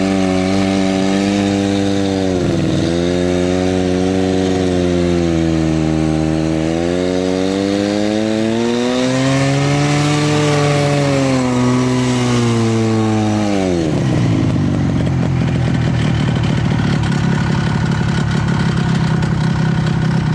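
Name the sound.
snowmobile engine riding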